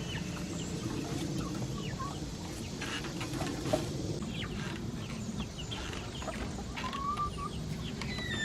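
Chickens cluck and chatter close by as they peck at potato tops, with short calls overlapping in an irregular flurry against a steady outdoor background.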